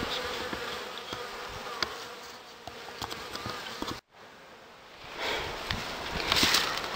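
Honey bees buzz steadily around a beehive outdoors in spring while its bottom board is replaced, a dense, continuous hum from many insects with a few soft handling knocks and a brief drop in the middle.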